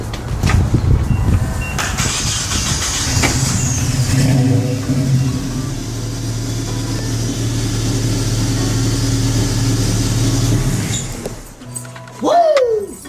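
A Nissan KA engine swapped into a Nissan 720 pickup runs steadily at close range, starting up and idling with a continuous low hum before cutting off near the end, with a brief whine and clatter afterward.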